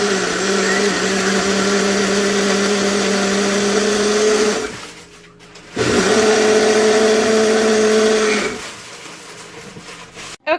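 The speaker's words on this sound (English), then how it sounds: "and then we're just gonna blend it" Blender whirring loudly as it purées softened chili with cooking water for chilaquiles, a steady motor drone that cuts out briefly, restarts, then stops and winds down.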